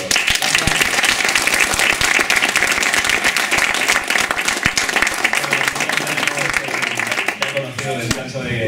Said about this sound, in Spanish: Pues un fuerte aplauso para Fernando Rueda.